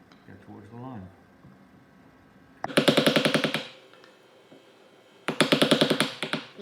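A chisel struck repeatedly with a mallet, cutting through the face veneer into plywood. Two close, loud bursts of rapid sharp knocks follow a brief stretch of speech.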